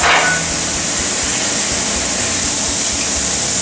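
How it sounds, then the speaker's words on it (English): Chopped sirloin and vegetables sizzle on a hot griddle with a loud, steady hiss that runs unbroken from start to finish, with no talking. "we're going to add about 8 ounces of chopped sirloin and going to kind of incorporate everything"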